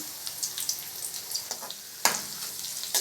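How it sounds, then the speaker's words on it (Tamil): Crushed garlic, curry leaves and dried chillies fry in oil for a snake gourd kootu: a quiet, close crackling sizzle punctuated by a few sharper spatula scrapes and pops. "பூண்டு நல்லா வதங்கி வாசனை ஆகிற அளவுக்கு வதக்கியாச்சு."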